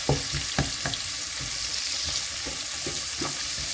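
Onions sizzle and fry in a pan with a steady hiss, while a utensil stirs them in several soft, irregular scrapes and taps, close and moderately loud with no talking.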